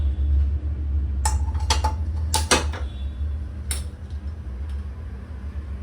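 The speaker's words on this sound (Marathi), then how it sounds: "आता आपण गॅस सुरू करूया" A kitchen gas stove's igniter gives several sharp, bright clicks in a short irregular burst, close and distinct over a low steady hum, before the burner is used for cooking black pepper chicken.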